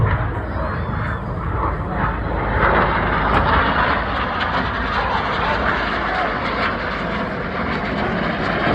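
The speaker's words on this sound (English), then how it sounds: "Each aircraft looking to pass each other within only 30 metres." Red Arrows aerobatic jets roar loudly past at a seaside airshow in Southport during a synchro double roll, a dense, continuous engine rumble and rush that swells slightly mid-pass.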